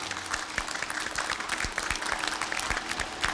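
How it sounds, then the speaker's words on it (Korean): An onlooking crowd at a bridge construction site claps for actor Lee Byung-hun, a brief burst of scattered hand claps with a few sharp nearby claps standing out. "자 이병헌 군에게 박수 한번 보내주시죠"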